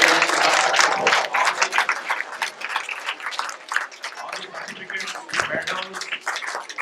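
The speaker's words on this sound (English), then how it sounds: "Kids, give them a big round of applause." Sustained applause from an audience for the children at a school science fair, dense clapping loud and steady throughout with no talk over it.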